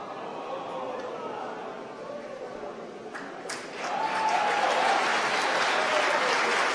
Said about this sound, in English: You can hear from the applause.